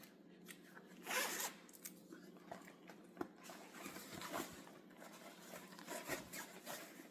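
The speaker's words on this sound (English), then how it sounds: "and then it zips here." A tote bag's zipper is run closed in a short rasping burst, with a few softer zips and rustles of fabric following, close and fairly quiet.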